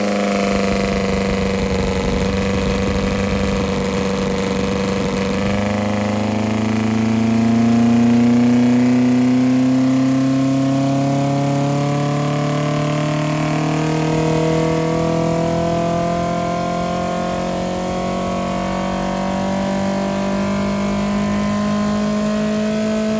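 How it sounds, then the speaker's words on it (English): A 2.1-litre Pinto engine fitted with a Weber carburettor and 38mm chokes runs on a dyno, roaring loud and close as it climbs through a long, steadily rising pull after a brief steady stretch, with no voices. "So coming next is a dyno run after we've installed the 38mm chokes."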